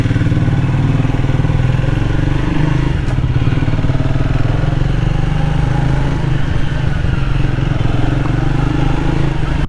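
A Triumph Speed 400 motorcycle engine runs nearby at a steady, loud idle, a continuous low throb with a faint metallic clatter and one brief tick partway through.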